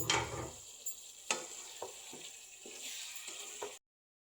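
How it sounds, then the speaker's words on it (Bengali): Liver and potato pieces frying in a pan for a liver bhuna, with a soft continuous sizzle and several separate scraping strokes of a spoon, close by, then falling silent. "এখন নাড়াচাড়া করে দিব, আবারও একটু নেড়ে দিই।"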